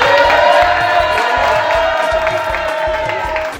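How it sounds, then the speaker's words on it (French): A crowd cheers and shouts in a steady, loud roar of whoops and applause, with a rhythmic pulsing beat underneath, voices mixed in throughout. "Un tonnerre d'applaudissements pour le sponsor La Viche"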